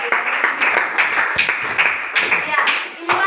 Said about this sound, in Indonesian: Tepuk tangan kepada Anissa.